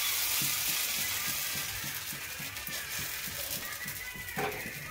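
Chakuli pancakes with onion and coriander fry in a pan with a steady, close sizzle, punctuated by a regular pattern of soft low scraping or stirring taps throughout.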